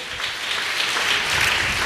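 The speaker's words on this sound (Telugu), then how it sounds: "గట్టిగా చప్పట్లు కొడదాం." Church congregation at a Sunday worship service clapping loudly together, a dense, steady wash of applause filling the room without pause.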